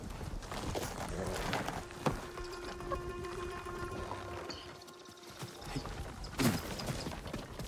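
Horses gallop in Ghost of Tsushima, giving a steady rapid clip-clop of hooves mixed with tack rattles, moderately close and fairly quiet under a low ambient bed.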